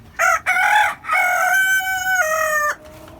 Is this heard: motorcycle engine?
no